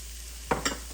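Onions and celery cooking in a roux for crawfish étouffée, stirred with a spoon. Two quick, faint scraping strokes sit over a low hum and soft sizzle, with no talk.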